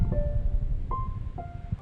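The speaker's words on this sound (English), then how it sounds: "What you're hearing is a piano that's reacting to the movements of a player." Single piano notes triggered by a video game player's left and right movements, a few separate tones sounding softly, some struck harder than others, over a low background rumble.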